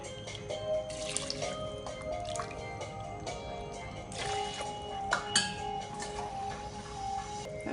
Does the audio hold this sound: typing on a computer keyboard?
no